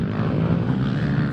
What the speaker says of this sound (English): It's the sound of a dozen 450cc engines firing up before they drift, drag and jump